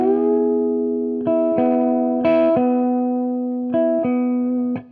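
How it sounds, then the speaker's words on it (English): Electric guitar with a chorus-like effect, a sustained chord ringing while notes on the lower strings are picked and bent downward, pulling pitch flat in several short repeated gestures, close and with no talk. "When I bend down on the lower strings, it will make a note go flat."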